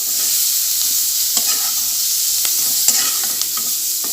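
Onions sizzling and frying in a pan for Tamil-style mint chutney, a steady close hiss with a few sharp clicks of a spatula stirring, no talking.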